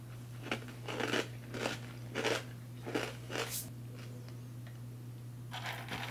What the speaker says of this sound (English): we'll try some of these toasted corn kernels, also known as corn nuts. And this is one of the less than tactical snacks because this is going to be a very loud one